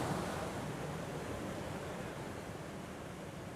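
White water rushing over Molesey weir on the River Thames, a steady broadband roar with no breaks, loud and continuous throughout.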